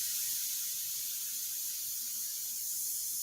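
Airbrush spraying India ink onto a portrait, heard as a steady, even airy hiss with no breaks, close and fairly soft, no talking.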